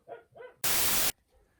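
A dog gives two quick, sharp barks close by, followed by a brief loud burst of harsh static.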